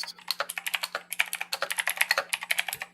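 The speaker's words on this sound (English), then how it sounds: "we hear keyboard typing" Rapid, steady clacking of a computer keyboard being typed on, close and clear, with many crisp keystrokes in quick succession and a faint low hum underneath, no voices.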